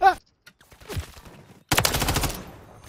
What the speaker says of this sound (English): Shooting at me from the cave.